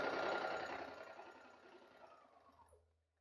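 A domestic sewing machine stitches a seam on paper, a close steady whir that fades away as the stitching slows and stops.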